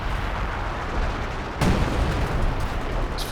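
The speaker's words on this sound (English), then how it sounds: "big hit from the zeroing artillery" Zeroing artillery shell landing in Company of Heroes 2 during a 2v2 match, a sharp blast at mid-clip over a steady dense rumble of distant battlefield gunfire and explosions, with no talk.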